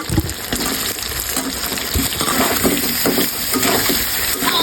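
Chicken pieces with taro frying in spices, a continuous close sizzle and crackle with intermittent stirring scrapes and wet bubbling, fairly loud throughout.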